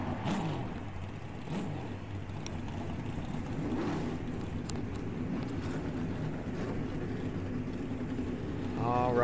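Engines starting and idling together in the NASCAR Racing 2003 video game at Talladega Superspeedway, a 42-car field giving a steady, dense rumble that swells slightly toward the end, with no talk over it.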